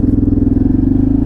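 An old motorcycle engine, near death with carburettors needing cleaning, idles loud and close in a steady, rapid low chugging pulse with a slightly uneven rhythm throughout.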